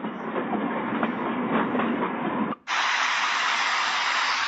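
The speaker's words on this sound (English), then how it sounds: "train. Why is that under?" A steady rumbling train with rhythmic clickety-clack, then an abrupt cut to a brighter, even hiss of rushing noise, continuous and fairly loud.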